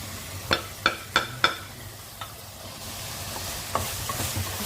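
Mutton liver fry stirred in a pan with a spoon: four quick scraping strokes close together, then a few softer stirs over a faint sizzle, close and fairly quiet.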